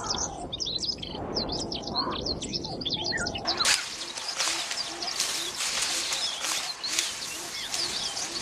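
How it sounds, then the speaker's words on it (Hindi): Red-billed oxpeckers give sharp, repeated chirping calls in the wild, moderately close over a steady hiss of outdoor ambience that grows denser partway through. "लाल चोंच वाले ऑक्सपेकर पक्षियों की आवाज"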